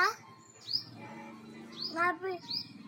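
A bird calls loudly from overhead near a house, giving a few sharp, rising chirps over a background of speech.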